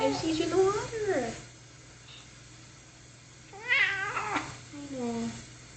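A cat being bathed gives drawn-out, wavering, complaining meows close by, one series at the start and another a few seconds later, with quieter stretches between them.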